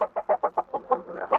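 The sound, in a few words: rooster crowing and clucking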